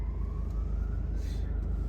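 An emergency siren wails along a Warsaw street, its tone gliding steadily and sitting moderately distant under loud, rumbling traffic noise.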